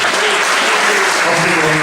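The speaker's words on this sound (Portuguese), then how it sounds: "As tuas palmas, elas glorifiquem" A church congregation clapping in worship, loud, continuous and dense, with a faint tonal hum of music or voices underneath.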